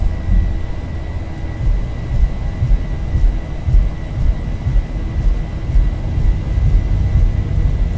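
Simulated Boeing 737 jet engines spooling at takeoff thrust in the X-Plane 11 flight simulator, giving a loud, continuous low rumbling roar that stays steady throughout.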